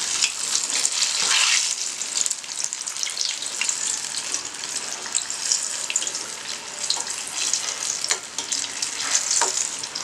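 Jackfruit bajji fritters deep frying in hot oil give off a loud, steady, dense crackling sizzle that runs without a break from start to finish, with occasional brief stirring swishes.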